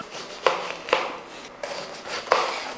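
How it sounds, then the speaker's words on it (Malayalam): A knife chops pineapple and pumpkin for a sweet curry, landing four or five sharp cuts on a board at an uneven pace, fairly close and clear with no talking. "അപ്പോൾ നമുക്ക് ഈ പൈനാപ്പിളും മത്തങ്ങയൊക്കെ ഒന്ന് അരിഞ്ഞെടുക്കാം"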